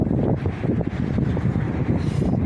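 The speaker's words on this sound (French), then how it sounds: "c'est juste le vent" Steady, blustery wind roars against the microphone on the beach at Ostia near Rome, a dense low rumble that buffets continuously for the whole stretch with no voices.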